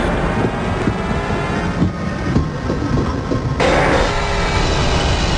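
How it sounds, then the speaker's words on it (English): A moving train in Half-Life, rolling steadily with a heavy rumble and rhythmic wheel clatter, loud and close, with no voices. "The most overpowered train you've ever seen."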